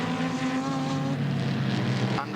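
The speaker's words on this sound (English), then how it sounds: "Chevy engine." A Chevrolet-engined L-Car Torana sports sedan races at Oran Park Raceway in Sydney during the 1987 NSW Sports Sedan Series, its engine a loud, sustained roar with steady revs that shift slightly as it passes close by.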